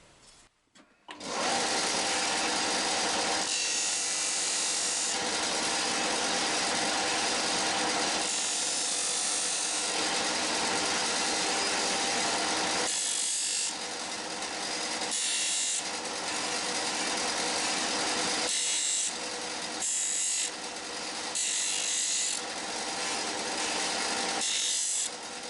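Parkside disc and belt sander from Lidl running continuously while corners of metal brackets are dressed, loud steady whine with repeated dips and surges as each piece is pressed against the abrasive.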